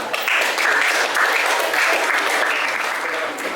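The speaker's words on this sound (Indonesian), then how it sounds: "kita beri tepuk tangan sama kelompok 6" Steady applause from a group of people in a class presentation session, many hands clapping continuously at fairly close range for several seconds.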